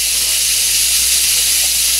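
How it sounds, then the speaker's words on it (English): Fatty bacon sizzles in a hot waffle maker, a loud, continuous, bright hiss of spitting fat that stays steady and close throughout. "You can hear the sizzle, so just be careful because it's hot."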